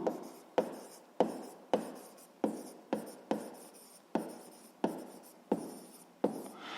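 A pen writing on paper in a quiet room, about a dozen separate scratchy strokes at a roughly even pace, each starting sharply and trailing off, close and soft.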